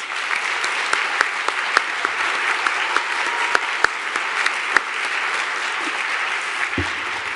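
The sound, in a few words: auditorium audience applause for Bonnie and Stephen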